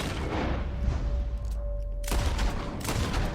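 Gunfire aimed at a big bear in the video game Red Dead Redemption 2, with dense, loud shots crowding most of the clip and a short gap before the barrage picks back up.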